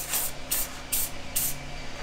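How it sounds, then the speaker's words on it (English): A spray paint can fires four short, sharp hissing bursts at a steady rhythm while parts for a Jeep Gladiator cargo rack are being painted, close and clear over a faint low background hum. "we're gonna spray paint them and then finish the install after they dry."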